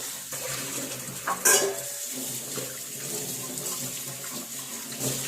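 Dishes are washed under a running tap at home, steady splashing water with brief clatters of utensils and a sharper knock near the start.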